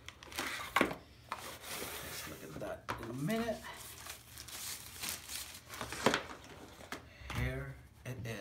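An Azio Armato mechanical keyboard being unpacked, with plastic packaging crinkling and rustling up close in bursts, plus a few bumps and scrapes, while someone talks over it.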